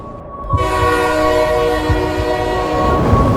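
A train passes loudly on a railway track, its horn sounding as a sustained blaring tone over the rumble and rhythmic clickety-clack of wheels on rail joints, with no voices.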